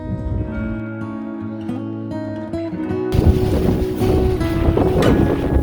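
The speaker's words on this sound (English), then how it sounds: "All right, so the wind picked up." Strong sideways wind at night at a canoe campsite, buffeting the microphone with a continuous rushing roar and tonal hum that grows louder and rougher partway through.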